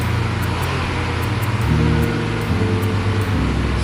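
A 2016 Honda CR-V engine revs up from idle in a steady, loud, continuous drone, its low hum shifting pitch a few times as the throttle rises.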